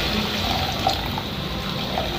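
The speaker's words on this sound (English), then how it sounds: "So we add water," Water poured into a pot of tomato fish stew, a steady, fairly quiet liquid rush lasting a couple of seconds, close by with no talk over it.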